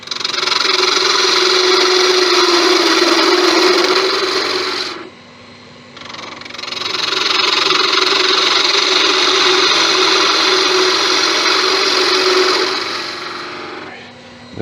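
A wooden pizza wheel handle spins on a woodturning lathe as a tool cuts it, a loud, steady rasping whir that stops briefly and then resumes, with no talk.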